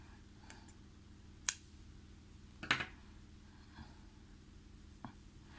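Scissors snip through crochet yarn in a few quiet, crisp cuts, scattered sparsely across a hushed indoor setting.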